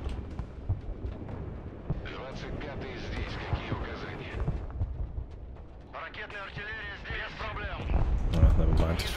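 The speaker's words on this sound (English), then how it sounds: "Do the strafing run like that instead." Strafing run and bombing in the multiplayer war game Broken Arrow: rumbling explosions and bursts of gunfire roll on in the background while a voice talks over them, with the blasts swelling louder near the end.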